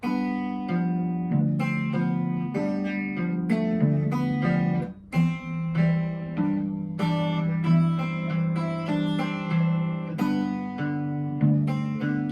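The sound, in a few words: guitar playing passage slowly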